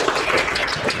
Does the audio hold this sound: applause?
yes